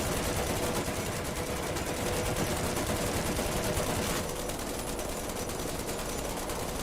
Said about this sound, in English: The machine guns are pretty sweet